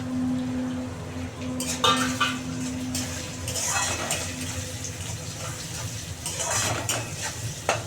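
Tomato goes into a pan of fried onions, stirred with steady scraping and a soft continuous sizzle, near and moderately loud throughout, with no speech.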